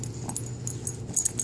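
A dog whimpers with a few short, high-pitched yips over a steady low rumble, fairly close and with no voices.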